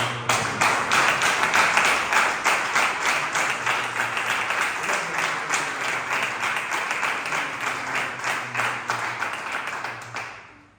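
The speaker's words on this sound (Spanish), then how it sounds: "Dale un fuerte aplauso." A congregation at a church service applauds loudly, a dense, sustained wash of clapping that holds steady for about ten seconds before tapering off at the end.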